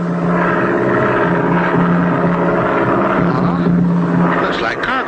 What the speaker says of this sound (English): I hear it. It's a plane.